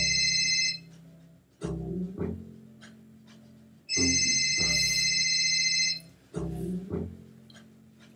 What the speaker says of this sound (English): The next cue I want is a phone rings.